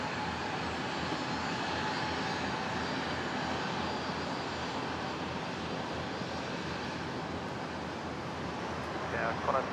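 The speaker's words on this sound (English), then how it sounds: "Qantas 73 pushing back there." A Qantas airliner pushes back at Brisbane airport, its engine a steady, broad roar holding level throughout, with a faint voice rising briefly near the end.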